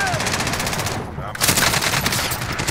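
Sustained automatic gunfire in a team-based trios shooter match, rapid overlapping bursts filling the whole stretch, loud and close with a brief dip midway before the fire resumes.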